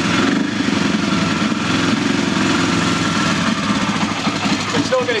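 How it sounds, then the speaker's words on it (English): A classic motorcycle engine runs roughly, firing on only one side and hunting, with a steady close-up mechanical drone that wavers in and out without settling into a clean tickover. "it's only firing on one side really, and it's hunting and coming in and out"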